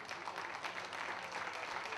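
Warm, sustained applause fills a Greek album presentation and award ceremony, a dense steady wash of many hands clapping at even loudness throughout with no voices rising above it.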